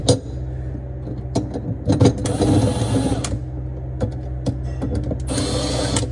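A Milwaukee power driver whirring in short bursts as it drives screws into a garbage disposal mounting ring under a sink, two longer runs with clicks between them.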